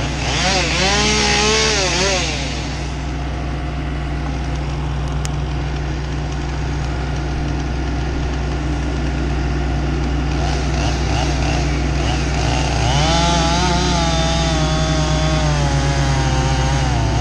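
A Husqvarna 576 XP chainsaw cuts through a large maple tree, its engine roaring steadily and loud at close range for the whole stretch, pitch shifting as the chain bites into the wood.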